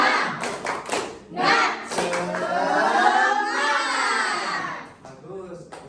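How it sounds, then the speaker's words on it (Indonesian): A school class stands and performs a spirit clap chant, children's voices shouting in unison with rhythmic claps and thumps, loud and close in a classroom. "ayo tepuk semangat sambil berdiri"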